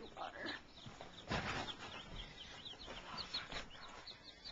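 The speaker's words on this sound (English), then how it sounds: "Welcome to our baby chicks." Baby chicks, including barred rocks and Wyandottes, peep softly in a brooder, high chirps repeating through a faint background with occasional light handling noise.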